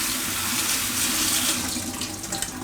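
Cold water running and splashing over freshly cooked pasta, a steady close rushing pour lasting a couple of seconds with no voices.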